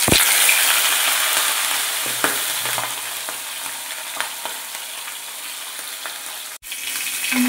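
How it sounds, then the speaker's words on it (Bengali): A fish head fries in hot oil in a wok, giving a loud, steady sizzle that hisses without a break, with a few light clicks and a brief dip near the end, and no talking. "তেল গরম করে মাছের মাথাটা ভেজে নিয়ে আগে"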